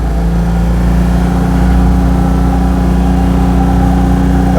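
A Citroen 2CV's flat-twin engine runs steadily and loudly from inside the car, a constant low throbbing drone with a faint buzzing edge and no gaps, no voices.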